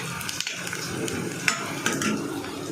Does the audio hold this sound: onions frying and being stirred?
yes